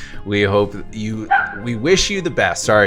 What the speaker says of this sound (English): apologize for my dog barking in the background